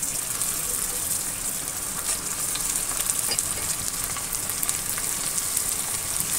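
Mutton pieces added to hot oil with browned onions, bay leaf and whole spices fry with a loud, dense, continuous sizzle and hiss, steady and close, with light scraping from stirring and no voices.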